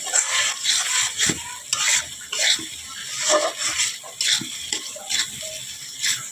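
Spices for a chicken curry fry in a pan while a spoon stirs them, giving repeated scraping strokes in a loose rhythm over a steady close sizzle, with no talking.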